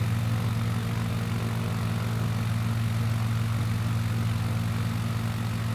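In Microsoft Flight Simulator 2020, a small propeller plane takes off from a dirt runway, its engine droning loud and unbroken with a strong low hum and no voices.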